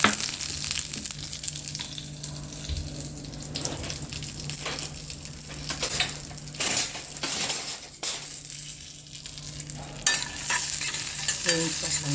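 Cashews and almonds fry in hot ghee in a kadai, giving a steady sizzle broken by stirring scrapes and light clinks of the nuts against the metal. The sound is close and continuous, with no one speaking.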